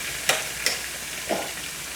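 A pan on medium heat fizzes with a soft steady sizzle before shrimp go in. A few sharp scraping stirs of a utensil cut through, heard close with no talking.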